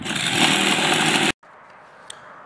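A power saw rips through plywood for greenhouse end panels, loud and steady for just over a second before cutting off abruptly, leaving quiet background with a faint tick.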